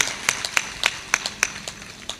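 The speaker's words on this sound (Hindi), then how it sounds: "इसलिए ताली बजाओ और ठहाका मार कर हंसो।" Hand clapping in an uneven rhythm, about a dozen sharp claps spread across two seconds, fairly close and clear with no talking over them.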